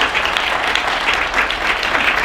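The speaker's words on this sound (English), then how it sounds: "Can we get an applause for Mr." An audience at a diversity panel discussion applauds a panelist with dense, steady clapping that fills the room from start to finish.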